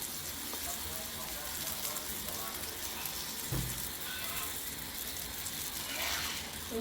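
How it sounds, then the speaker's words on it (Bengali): A paratha fries in white oil on a flat tawa, giving a soft, steady sizzle with a brief thump midway. A voice speaks briefly near the end. "আমরা পরোটাটা তাওয়ার মধ্যে দিয়ে দিচ্ছি। এই দেখেন আমরা দিয়ে দিচ্ছি পরোটার মধ্যে সাদা তেল।"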